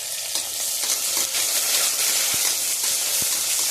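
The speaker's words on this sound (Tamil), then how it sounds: "இப்ப பட்டை, லவங்கம், ஏலக்காய், பிரிஞ்சி எல்லாம் ஆட் பண்ணிக்கிறேன்." Cinnamon, cloves, cardamom and bay leaf fry in hot oil with a steady, close, bright sizzle and hiss that holds at an even level, with a couple of faint clicks mixed in.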